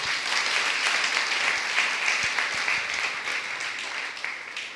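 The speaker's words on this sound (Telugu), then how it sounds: "చప్పట్లను కొట్టరే" A congregation at a Sunday church worship service claps, a dense, sustained applause that fills the room for several seconds, loud and continuous with a few sharper claps, no speech over it.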